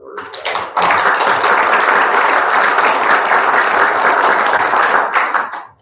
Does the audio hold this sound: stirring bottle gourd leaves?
no